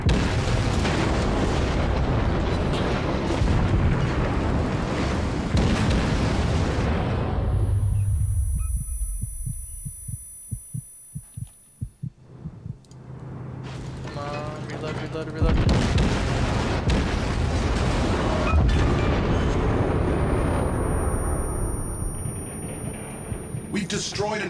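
Naval gunfire and heavy explosions in World of Warships, with the Fujin destroyer in battle: dense booming blasts fill the first seconds, fade into a lull of rumble and game chimes, then another loud barrage bursts in near the end.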